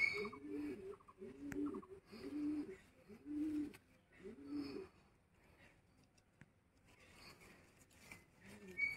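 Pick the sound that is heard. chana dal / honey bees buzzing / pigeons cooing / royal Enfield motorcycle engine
pigeons cooing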